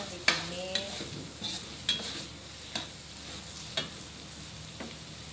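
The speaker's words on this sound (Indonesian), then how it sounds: "Masukkan petainya, ditumis." Small whole petai beans stir-fried in a pan for a petai and potato dish: a spatula scrapes and clinks against the pan about six times over a steady, soft sizzle, with no talking.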